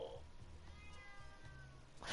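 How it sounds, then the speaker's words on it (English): A cat meows at a door indoors, a few short meows that sound faint under quiet room noise. "Just meows at the other door."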